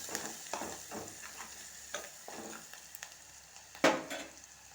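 Onions with turmeric being stirred in a pan, a soft sizzle under repeated scraping strokes of a spoon at a slow, even pace, with one sharper clatter near the end.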